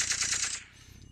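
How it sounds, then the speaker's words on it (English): A rapid burst of gunfire in VRChat, several quick shots in a loud rattling string lasting about half a second, then a quieter tail. "Gunshots?"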